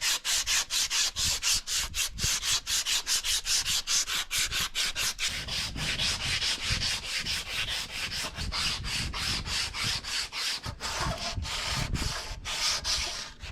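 Rhythmic back-and-forth hand sanding on wood with a strip of sander belt, quick scratchy strokes repeating steadily and closely for the whole stretch with no voices.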